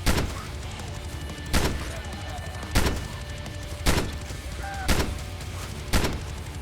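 Gunfire in the survival video game VEIN, six sharp shots spaced about a second apart at an even, deliberate pace, loud and close, with a low background hum between them.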